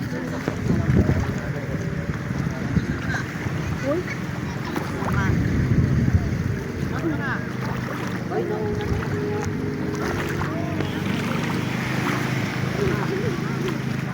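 Boat noise out on open water: a steady rumble with wind buffeting the microphone and faint voices under it.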